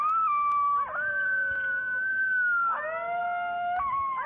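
Dogs howl at night in a long, loud, continuous wavering howl that rises and falls in pitch, with overlapping voices and no talking.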